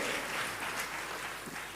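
A church congregation claps together in a dense, even wash of applause, heard from some distance at a low level that fades slightly toward the end.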